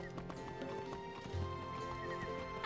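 Horse noises in the video game Wizard101, quiet clip-clopping hooves and a brief whinny over a soft, steady game music bed, ending in a sudden louder burst.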